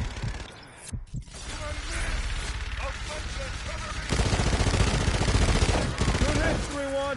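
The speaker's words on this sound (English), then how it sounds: "Inbound for gun run. Guns, guns, guns!" Video game gun run on a PS4 broadcast: sustained rapid machine gun fire, loud and close, building in intensity in the second half, with radio-style voices calling out over the gunfire.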